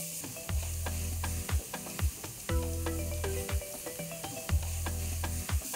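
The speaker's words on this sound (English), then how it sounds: "chop onion and saute it till it get nice golden brown" Chopped onion sautés in oil and ghee with black peppercorns for a bhuna chicken masala, a soft sizzle under repeated scraping strokes of a spatula in a regular rhythm, with faint clinks.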